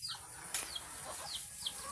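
Chickens cluck softly in a rural yard, with a few short, scattered calls over low background noise and no talk.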